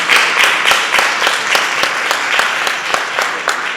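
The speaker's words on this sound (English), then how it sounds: "I think she deserves a round of applause." Audience applauding at a bank's product launch event, dense steady clapping from a crowd that holds loud throughout, with sharp individual claps standing out.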